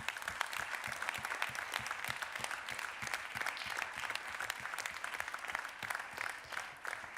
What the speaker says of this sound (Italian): Con affetto un applauso, questa volta nostro, va a voi.